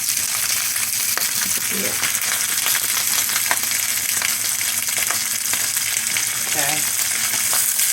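Green and red peppers and onions frying in oil for a lamb and vegetable dish, a loud steady sizzle with occasional clinks and stirring, while a person says a couple of brief words over it.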